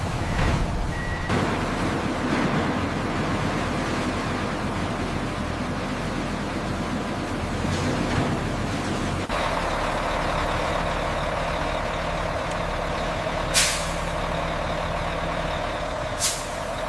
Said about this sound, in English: From the moment garbage trucks arrive at the gate